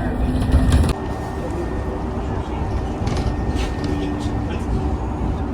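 Tram number 276 arrives on a Budapest street as a steady low rumble with a brief louder burst at the start, under nearby outdoor voices.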